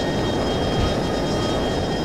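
A jet fighter in the flight combat game F22 Total Air War, a steady loud roaring engine wash holding constant throughout without talk.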